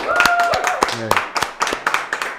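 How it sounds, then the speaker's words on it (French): Scattered handclaps from a small audience at a startup talk event, sharp and irregular, mixed with some background chatter and a brief whistle-like tone. "je vais demander d'abord de vous applaudir vous-même"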